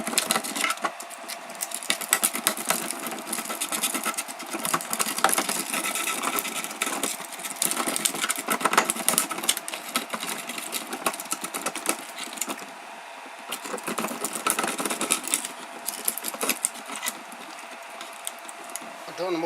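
Shredder driven by a wiper motor chewing through 3D printed plastic parts, giving a continuous loud grinding whir broken by crackling snaps and rattles, fairly close.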